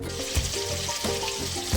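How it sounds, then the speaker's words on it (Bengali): Fish coated with salt and turmeric frying in hot oil in a wok, giving a bubbling sizzle with periodic low thumps and clatter, close and moderately loud, with no talk. "এই দেখো মা মাছে নুন হলুদ দিয়ে দিয়েছে, এখন ভাজা হবে"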